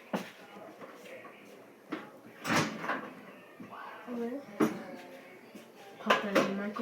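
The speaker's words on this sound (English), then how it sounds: "Let's pop this bad boy in the microwave." Chicken nuggets are loaded into a kitchen microwave, with a few clattering thumps of the door and dish handling, each close and sharp, spread between bursts of talk.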